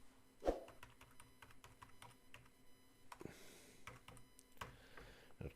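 Keys clack on a computer keyboard while a static IP and DNS server are entered on a mini PC, a quiet, irregular run of separate taps with one sharper strike near the start.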